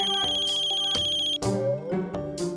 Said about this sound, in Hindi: राधिका का फोन है